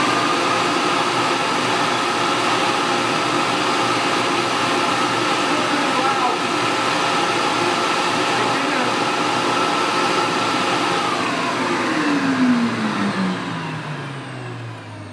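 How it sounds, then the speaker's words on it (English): A Hart shop vacuum running at full power, a loud steady roaring whine that holds for most of the time, then winds down with a falling pitch toward the end. "Let's turn it on and see how it sounds."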